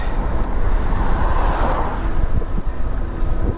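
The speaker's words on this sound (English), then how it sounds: "We're fighting right into the wind." Wind buffets the microphone of a moving e-bike ridden into a headwind, a loud, continuous roar with rumbling gusts and faint road noise underneath, no voices.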